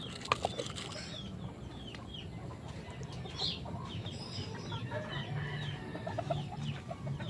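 Backyard-bred chickens cluck softly in a yard, scattered calls over a steady low outdoor background with a few sharper notes near the start.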